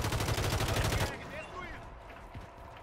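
Rapid bursts of automatic gunfire in Call of Duty for about a second, then quieter scattered shots and ambient game noise.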